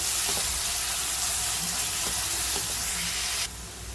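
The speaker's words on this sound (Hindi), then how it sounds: "नमक इसके लिए डाला जाता है कि प्याज जल्दी से लाल हो जाता है, गुलाबी हो जाता है, नरम हो जाता है। अभी चम्मच चलाएंगे।" Salted onions frying in a pan and stirred with a spoon: a loud, steady sizzle with a few soft scraping strokes of the spoon, then the sizzle drops in level near the end, with no voices.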